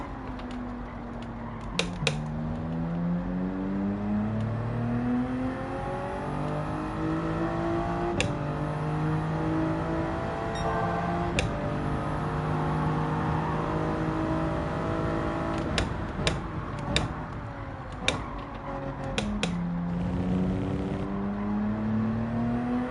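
A car engine revs in the Gran Turismo 7 racing game, rising and falling through the gears in long sweeping whines, with a few sharp clicks scattered over a steady, moderately loud drone.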